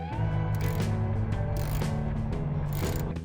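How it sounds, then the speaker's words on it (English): A ratchet tightens the mud flap bolts on a 2026 RAM 3500 Mega Cab dually, with rapid continuous clicking close by and a few brief pauses between strokes. "And then I just tightened the bolts back in."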